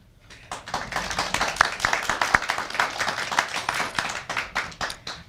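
Audience applause at a book event, a crowd's clapping that rises quickly into a brisk patter of many hands, holds steady, then thins out toward the end.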